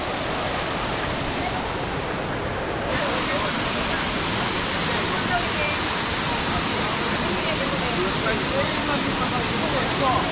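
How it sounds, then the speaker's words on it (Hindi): Steady broadband roar of a waterfall at Elephant Falls near Shillong, a dense continuous rush that holds for the whole stretch and grows a little fuller partway through, with someone talking over it. "इधर है वाटरफॉल"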